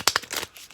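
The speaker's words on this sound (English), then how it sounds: "do a nice quick little shuffle of my cards" A deck of playing cards gets a quick shuffle, a few brisk crisp papery flicks in under a second, close and clear with no talk.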